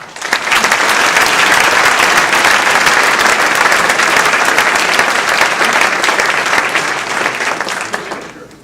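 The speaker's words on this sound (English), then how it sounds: "How about a round of applause?" Sustained audience applause from a large crowd at a transportation authority talk, dense and steady clapping for about eight seconds before tapering off at the end.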